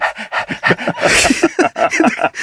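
A person imitates a panting dog up close with rapid, rhythmic breathy huffs and small whimpering yips, quick and continuous throughout.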